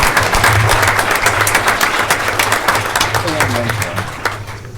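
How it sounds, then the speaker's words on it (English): An audience at a school district event applauds students with a sustained wash of clapping that slowly tapers off, over a low hum and faint voices. "Let's give these kids a round of applause for what they're doing"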